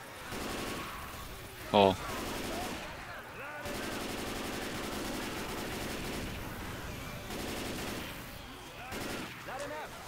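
Bursts of gunfire from the zombie shooter Left 4 Dead 2 come in several rapid volleys amid game noise, with a short sharp exclamation from a player partway through.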